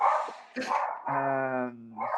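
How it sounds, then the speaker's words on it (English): A dog barks and yips a few times close by in a quiet indoor room, with short sharp calls followed by a longer whining, tonal bark. "Sorry about my dog is barking in the background."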